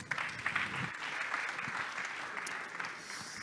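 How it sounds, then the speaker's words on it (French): Audience applause at a startup business conference, steady clapping from a moderately sized crowd filling the whole stretch at a modest level, with a few sharper individual claps standing out. "Mais ça, c'est Maxime Boisville, le CEO, qui va vous en parler sous vos applaudissements."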